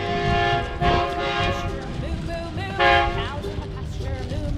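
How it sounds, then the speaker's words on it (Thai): A train rumbles past at speed through Bang Pa-in railway station, with broad mechanical noise, and a horn blares in two longer blasts with voices talking over it. "รถไฟมาคันหนึ่ง"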